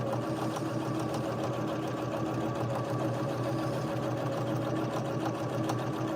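A domestic sewing machine set up for free motion embroidery runs at high speed, a steady, close whirring drone with rapid needle chatter that holds evenly throughout and grows somewhat louder as it speeds up.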